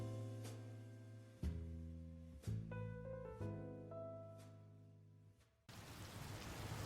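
Heavy rain pouring down on city streets arrives as a loud, steady broadband hiss in the final second or so, right after a stretch of sustained tonal music.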